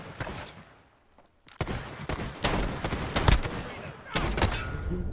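Gunfire in Modern Warfare, with sharp close shots in bursts and single cracks, a brief quiet gap, then more bursts near the end.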